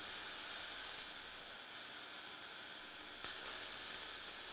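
Steady hissing, sizzling arc from a Climax BW3000 bore welder welding inside a bore, continuous and even throughout with no speech.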